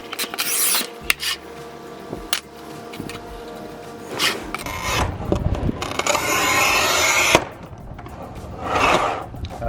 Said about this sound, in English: So yes, it can cut glass fairly clean.